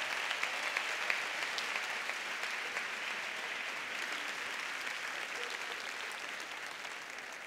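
Steady applause from an audience at a murga anniversary gala, a continuous wash of clapping that holds evenly for several seconds at a moderate, slightly distant level.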